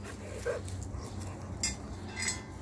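A German Shepherd dog being bathed gives a few faint, short whimpers and yips spaced across the moment over a low background rumble.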